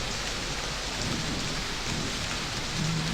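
Steady, dense rain pours in the video game Myst III, a continuous loud hiss of drops on surfaces with a low rumble swelling underneath toward the end, no voices.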